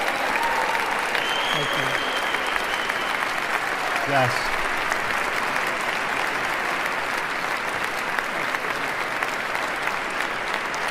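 Sustained applause from a large crowd at a presidential inauguration, steady and dense throughout, with a voice briefly speaking over it near the start.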